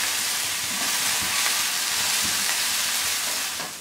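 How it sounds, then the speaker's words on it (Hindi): Mixed vegetables sizzle steadily in a hot pan for a few seconds, a dense continuous frying hiss with faint scraping knocks from a spoon stirring them now and then. "और ये सारी सब्जियां इसमें थोड़ी थोड़ी फ्राई करेंगे, और मुसलसल चमचा चलाते हुए इसको इतना पकाना है कि ये थोड़ी सी नरम हो जाए।"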